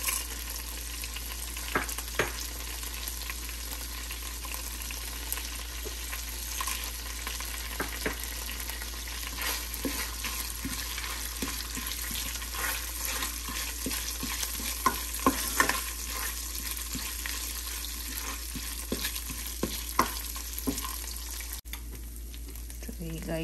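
Whole garam masala of cinnamon, cloves, pepper and bay leaves frying in oil in a pan, a low continuous sizzle broken by repeated clicks and scrapes of a spoon stirring.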